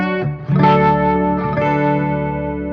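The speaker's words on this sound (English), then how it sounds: "Let's decrease the mix of the string reverb a bit." An electric guitar plays through a Zoom G3Xn multi-effects processor with its string reverb mix turned down, giving a few sustained, ringing chords with a gentle wash of ambience, clear and alone.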